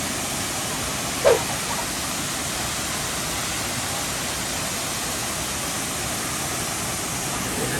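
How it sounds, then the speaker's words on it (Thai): A steady, broad roar of rushing water from the Khlong Lan waterfall pours on without pause, with a brief yelp-like sound cutting through near the start. "โอ้จะเป็นน้ำตก"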